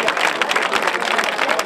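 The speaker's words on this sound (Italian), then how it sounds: "Bravi, fatevi un applauso, complimenti." Audience applause at an Italian fan gathering, a dense burst of many hands clapping loudly and steadily throughout with crowd noise mixed in.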